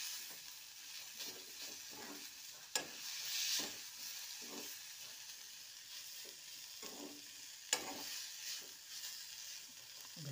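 Vegetable stir-fry of garden fiddlehead fern greens with coriander sizzles in a pan, a soft steady crackle punctuated by a couple of sharp utensil knocks against the pan while stirring.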